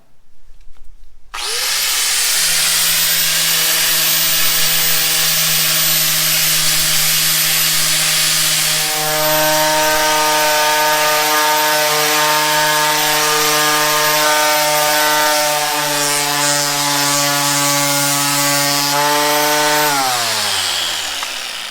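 Buffing a granite tabletop with abrasive grit on a power tool gives a loud, steady motor whine with strong harmonics. It runs continuously for about twenty seconds, shifts in pitch partway through, then winds down at the end.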